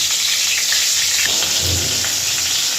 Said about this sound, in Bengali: আগে মাথা দুইটা ভেজে নিই